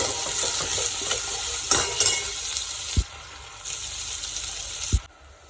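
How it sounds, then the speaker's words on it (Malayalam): Onions sauté in a pan for a homestyle Kerala chicken curry, frying with a constant close sizzle while a spoon stirs and scrapes, knocking against the pan a couple of times. "അപ്പോൾ നമുക്കിത് നന്നായി വഴച്ചെടുക്കാം ഇതൊന്ന് വഴഞ്ച് വഴഞ്ഞ് വഴഞ്ഞ് വെക്കാം"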